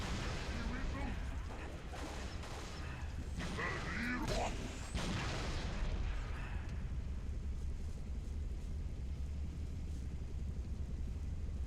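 A grenade blast and bursts of gunfire in Halo: Reach, with a dense rumbling burst of explosions and shots over the first several seconds that fades into a low rumble.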